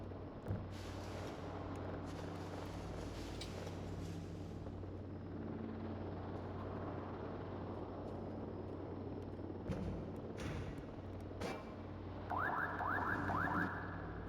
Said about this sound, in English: I am getting tired of hearing the drone